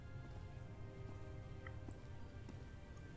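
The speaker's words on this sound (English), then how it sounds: "It's rainy and foggy." Steady rain in the foggy game Call of the Sea falls as a soft, continuous hiss, faint and even throughout, with scattered light drip ticks and no voices.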